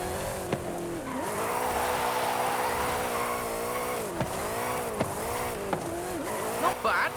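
A 2015 Mustang GT drifts through downhill corners in Forza Horizon 5, its engine droning steadily with bursts of tire squeal and skidding, loud and continuous under background music.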